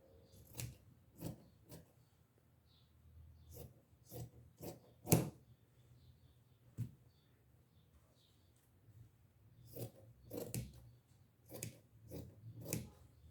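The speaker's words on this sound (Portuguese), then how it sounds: "Agora eu vou poder cortar meio centímetro," Scissors trim the seam allowance of sewn fabric in short separate snips spread across the stretch, with a few louder crisp cuts standing out against a quiet room.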